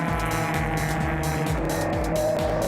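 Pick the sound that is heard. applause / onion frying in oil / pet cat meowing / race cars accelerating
race cars accelerating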